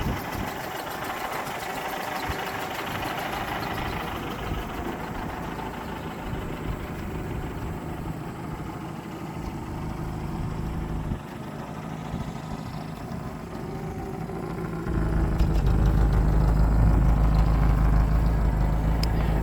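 A 1967 Ford M151A1 military jeep engine idles steadily and quietly, with a low constant rumble that deepens and grows louder near the end, and no voices.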